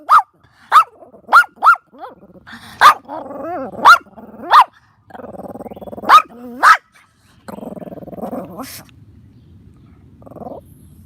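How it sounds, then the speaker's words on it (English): Dogs bark in a run of loud, sharp, close barks spaced a second or so apart, with some rougher growl-like bursts in between, then the barking eases into quieter, lower sounds toward the end. "somebody else with the dogs"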